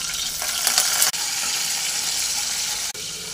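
Peanuts and chana dal fry in a pan for a chutney, giving a dense, even sizzle that runs close and steady, with two brief dips where the frying sound cuts off for a moment.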